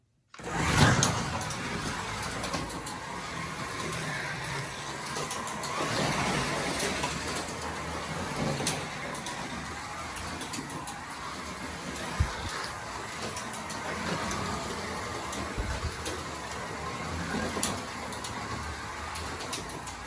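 Carrera DTM slot cars fitted with an aftermarket rear axle kit run around a plastic track, giving a steady mechanical whir and buzz with small clicks and rattles that continue throughout.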